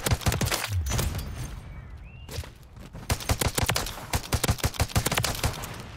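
Rapid bursts of shooter video game gunfire crack out in quick repeated volleys, loud and close, with a brief lull partway through.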